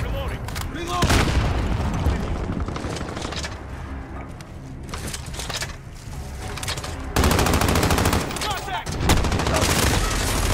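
Automatic sentry gun and heavy gunfire crackle through a military shooter video game battle in dense, loud, continuous bursts with booming impacts, over game voices and music.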